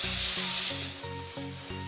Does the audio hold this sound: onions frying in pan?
yes